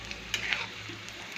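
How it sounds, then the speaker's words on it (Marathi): Edible gum (dink) frying in a pan until puffed and crisp, a soft sizzle broken by a few sharp scraping stirs, heard close with no talk. "डिंक चांगला तळून घेतला म्हणजे तो कुरकुरीत होतो आणि बारीकसुद्धा होतो."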